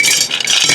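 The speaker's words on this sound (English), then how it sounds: "That's just some river rock that's been washed off real well." Washed river rock rattles and clatters briefly into a glazed orchid pot during repotting, a dense, close, continuous gritty rattle with no voices.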